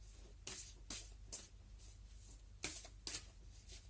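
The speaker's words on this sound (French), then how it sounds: "je vais tirer une carte de l'oracle chamanique et une carte de la voix du dragon" Oracle cards are shuffled in several short, crisp riffling bursts separated by pauses, close and fairly quiet, with no talking.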